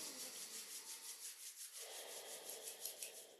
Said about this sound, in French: on frotte les paumes des mains l'une contre l'autre